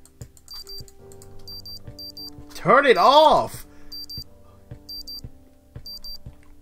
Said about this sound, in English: Where's that beeping coming from, damn it?